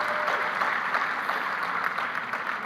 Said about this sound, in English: We should clap for them as well.